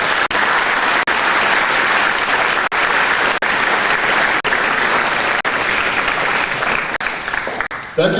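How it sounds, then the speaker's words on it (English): An audience at the 2025 GHV Hall of Fame induction ceremony gives the inductees a loud, sustained round of applause, a dense wash of clapping that holds steady for about eight seconds and tapers slightly at the end. "Let's have one more round of applause for all of our inductees."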